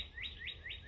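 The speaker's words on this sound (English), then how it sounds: "Don't you just love hearing the birds" Birds sing outdoors near a home deck in Worcester, a quick series of four bright rising chirps repeating evenly, faint and somewhat distant, with no talking.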